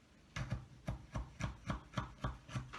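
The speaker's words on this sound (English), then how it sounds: "And then we're going to cut a nice thin slice." A knife cuts thin vegetable slices on a cutting board while a stir fry is prepared, about eight even, close, crisp chops in a steady rhythm, with nothing else heard.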